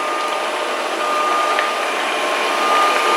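A Proscenic 790T robot vacuum cleaner runs indoors with a steady, close, high-pitched whine and hiss that stays constant throughout, alone without talk.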